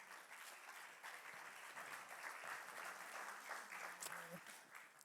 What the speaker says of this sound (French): On peut applaudir le Seigneur encore.